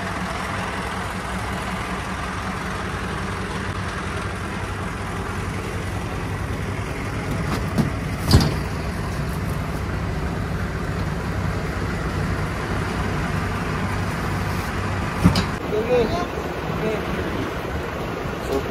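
A fully loaded farm truck's engine runs steadily outdoors at close range, a continuous low rumble with a couple of brief louder knocks partway through.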